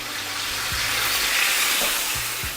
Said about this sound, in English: Gonna throw in some of the water.